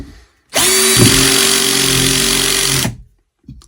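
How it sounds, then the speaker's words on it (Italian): A Topshak 20V cordless drill driver on clutch setting 5 drives a screw into wood in one loud, close whine lasting about two seconds, followed by a brief faint click. "come avvita questa vite senza arrivare fino in fondo"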